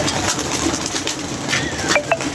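Pigeons coo amid steady outdoor noise, with a few brief higher bird chirps near the end.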